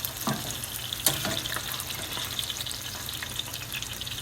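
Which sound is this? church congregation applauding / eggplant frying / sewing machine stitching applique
eggplant frying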